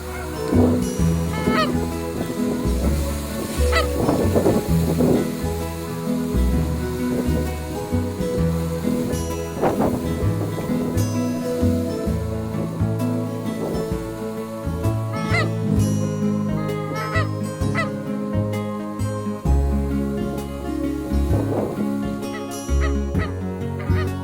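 A flock of geese honks continuously and loudly, many overlapping calls filling the air for a long stretch with no talking.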